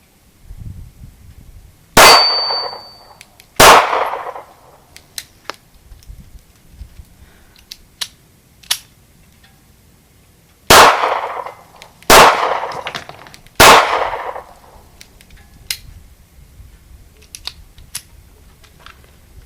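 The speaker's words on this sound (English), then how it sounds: "If not, then you're just going to see a lot of shooting." Kel-Tec P3AT pocket pistol fired at an outdoor range: a handful of sharp, loud individual shots in two clusters, separated by quiet pauses with faint clicks and handling noises in between.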